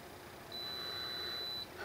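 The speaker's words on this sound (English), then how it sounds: "My alarm going off." A single electronic alarm beep sounds as one long, thin, steady high-pitched tone lasting about a second, faint against a quiet indoor background with no talking.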